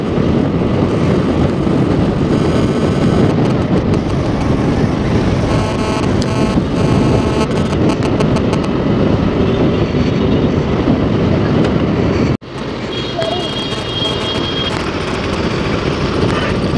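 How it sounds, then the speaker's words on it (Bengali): Heavy wind roars and buffets the microphone while riding a TVS Jupiter 125 scooter on a highway beside jammed lorries, a loud continuous rush with a sudden brief dropout near the end before it resumes. "প্রচণ্ড হাওয়া চলছে, প্রচণ্ড হাওয়া, সাইড বাই সাইড গাড়ি নাড়িয়ে দিচ্ছে, এত হাওয়া"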